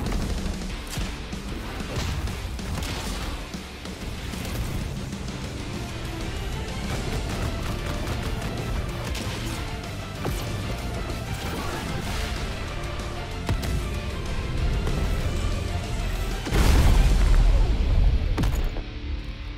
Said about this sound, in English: Explosion Star is the second move in the first of his ultimate